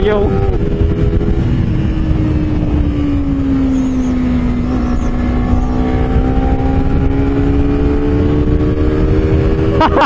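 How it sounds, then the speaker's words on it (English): A Honda CBR 250RR motorcycle with a quick shifter accelerates hard, its engine note climbing steadily with brief, quick dips at gear changes, loud and close throughout while a rider talks briefly. "Okay, let's do a little pull over here. Woo, that quick shifter"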